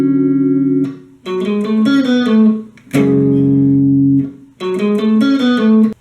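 An electric guitar plays the second part of the bridge of a song in loud, distorted chord stabs and short riffs separated by brief gaps, with no voice.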